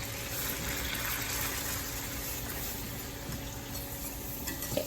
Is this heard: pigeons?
no